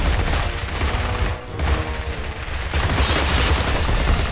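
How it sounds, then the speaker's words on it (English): Dense video-game gunfire in BlackSite: Area 51, loud continuous shooting tearing up gas station shelves, with a short dip before the firing resumes heavily. "the player's shooting the hell out of some shelves"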